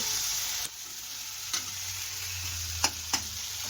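Spice paste sizzling steadily in a hot kadai, a bright continuous hiss up close with a few sharp clicks of a spoon against the metal.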